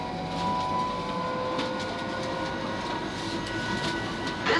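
On board a South Western Railway Class 458 electric train running near Kew Bridge, a steady low rumble and rolling wheel noise with faint motor whine carries on evenly throughout.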